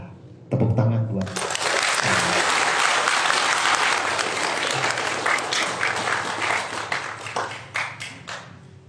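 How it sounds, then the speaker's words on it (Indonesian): A room full of people bursts into sustained applause, dense clapping that swells quickly and then thins into scattered claps toward the end, with some voices mixed in. "Kita tepuk tangan buat"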